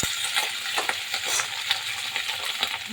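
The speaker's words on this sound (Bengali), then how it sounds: "পেঁয়াজগুলোকে ভেজে নেবো" Onions fry in a pan with a steady, close sizzle, broken by light rhythmic crackles and faint stirring clicks.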